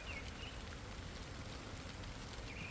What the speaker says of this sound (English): Rain is starting to pick up.